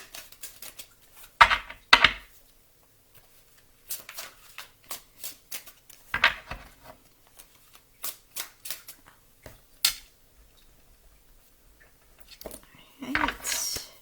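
Tarot cards being shuffled and mixed by hand in short, scattered bursts of crisp riffling and sliding, close and fairly quiet, separated by stretches of near silence.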